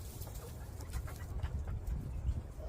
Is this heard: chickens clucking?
yes